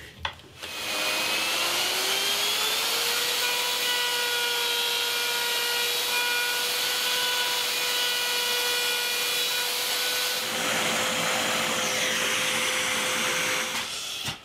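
A workshop vacuum extractor starts up during bass guitar work, its whine rising to a loud steady drone that runs continuously, with scraping and rubbing noises toward the end.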